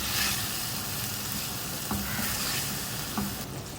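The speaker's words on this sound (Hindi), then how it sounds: "कीमे को मैंने 2 से 3 मिनट भून लिया है, इसका कलर चेंज हो गया है।" Beef mince frying in a pan for BBQ qeema rolls and samosas, a dense continuous sizzle and hiss with a few soft stirring bumps, close and steady.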